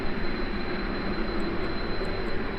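A modified Firefly aircraft flown in a video game gives a loud, steady engine drone with a constant roar throughout, with no voices.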